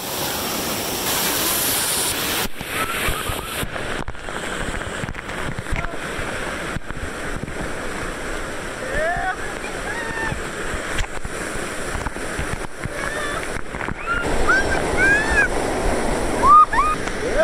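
At a waterfall in Kulen National Park, Cambodia, rushing water roars and splashes close by, steady throughout and swelling near the end.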